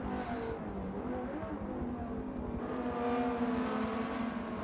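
Audi and Ferrari GT race cars in a racing game run close together down a straight, a steady loud engine drone with layered harmonic whine held at high revs, the pitch rising slightly near the end as they push on.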